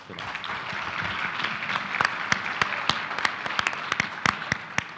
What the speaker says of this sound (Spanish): Les pido que le demos un aplauso a nuestros invitados